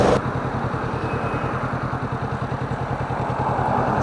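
A video game vehicle's engine is stuck in third gear, giving a steady, rhythmic mid-pitched drone, moderately loud and unbroken, with no one talking.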